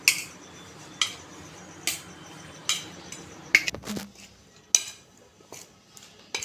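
A spoon stirs a masala papad cone filling of chopped salad with chili and coriander-cumin powder in a bowl, making crisp clinks against the rim about once a second, close and clear over a quiet background.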